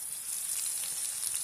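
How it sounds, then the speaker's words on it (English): Food sizzles steadily in a frying pan, an even, close hiss that runs unbroken, with no talking. "Cooking in the frying pan."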